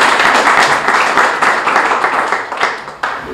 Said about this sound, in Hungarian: Egy kis tapsot